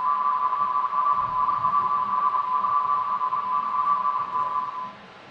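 A 170 hertz-shift frequency-shift keying radio signal warbles steadily as a thin, fast-alternating two-tone whine over faint static, running continuously for several seconds before cutting off.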